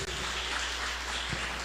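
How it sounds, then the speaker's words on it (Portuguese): A church congregation applauds in a short, dense, continuous patter of clapping over a low steady hum. "Você pode aplaudir ao Senhor por isso?"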